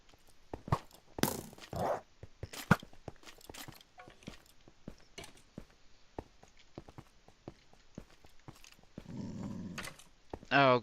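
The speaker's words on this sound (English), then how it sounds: "those dogs are trying to attack the skeleton because it's made out of bones" Minecraft wolves growl and snarl in short, scattered bursts while they attack a skeleton, with game footstep clicks throughout and someone speaking near the end.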